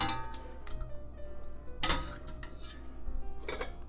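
Potatoes and green beans are folded into linguine with pesto in a pan, making soft scraping and stirring with scattered light metallic clinks and one sharper clank midway, close by and without talk.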